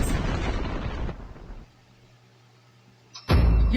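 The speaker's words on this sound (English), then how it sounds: "Your team has destroyed a tower." A tower blows up in the mobile game Arena of Valor: a loud, crunching explosion with scattered debris that fades into a quiet hum, then a second sharp burst near the end.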